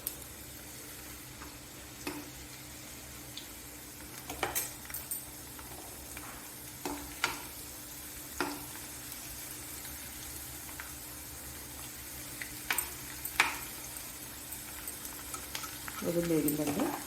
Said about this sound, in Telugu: వెల్లుల్లి వేగిందండి.